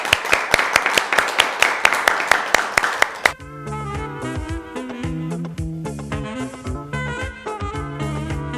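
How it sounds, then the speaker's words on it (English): A poetry show audience claps for a young poet in a short burst of sharp, evenly spaced claps lasting about three seconds, then cuts off abruptly as piano-like music takes over. "let's clap for her."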